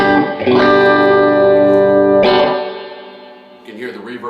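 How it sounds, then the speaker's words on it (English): Peavey Express 112 guitar amplifier with its reverb engaged: two sustained strummed electric guitar chords ring out loudly, each leaving a washy reverberant tail that fades, followed by softer picked notes. "you can hear the reverb's working."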